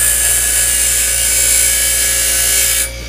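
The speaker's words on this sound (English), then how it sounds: "So I just use a grinder." An angle grinder grinds down a 1 3/4 inch screw, a loud, close, high-pitched whine held steady for about three seconds before the cutting stops abruptly.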